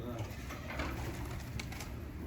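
Tumbler pigeons in a loft cooing softly and close by, low and steady under a constant background hum, with a few faint higher chirps.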